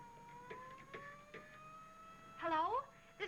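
A siren from a 1936 film soundtrack, faint and distant behind steady tones, followed by a brief louder warbling rise and fall near the end of the short excerpt.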